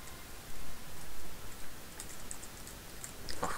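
Fingers tap on a computer keyboard in quick, uneven bursts of clicking keystrokes, close and moderately loud, with no voices.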